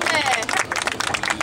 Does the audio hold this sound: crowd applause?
yes